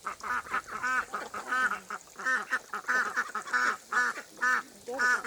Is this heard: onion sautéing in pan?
no